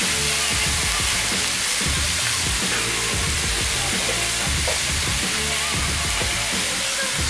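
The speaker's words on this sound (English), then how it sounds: "Stir this around. Might want to add a little bit of olive oil so it doesn't stick." Food sizzles steadily in olive oil in a pan as it is stirred for a cheesesteak pocket recipe, a dense, continuous, close frying hiss with soft scraping and clinking throughout.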